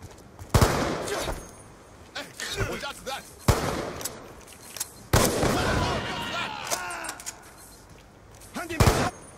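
Gunfire in a first-person shooter video game: several sharp, loud shot bursts spaced irregularly, some in quick rapid clusters, mixed with lighter clatter and game effects between them.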